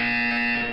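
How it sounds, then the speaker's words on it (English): A harsh, steady electronic buzzer blares from the test chamber in the video game Portal 2, loud and unbroken for under a second before it cuts off, with no talking over it. "You will hear a buzzer."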